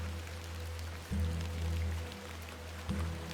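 Steady rain falls through an evening scene in the point-and-click game The Excavation at Hob's Barrow, a soft continuous patter over a low hum, with brief deeper swells.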